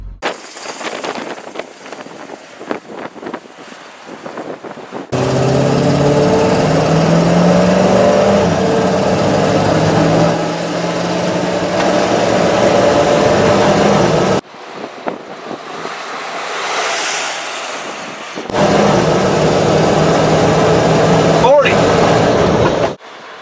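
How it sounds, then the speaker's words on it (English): A Hummer doing a full-throttle 0 to 40 acceleration run: a deep engine roar with rising, shifting pitch that swells loudly, drops to a pause, then surges again, with rattling mechanical noise and a few brief gaps. "here's a full-blown 0 to 40 pedal to the metal acceleration run"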